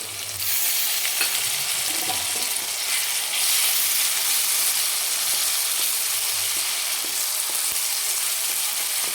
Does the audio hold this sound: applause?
no